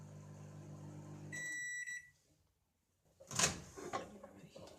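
A microwave oven running at 80% power while cooking dal hums steadily, then beeps, falls silent, and is followed by a clattering door opening.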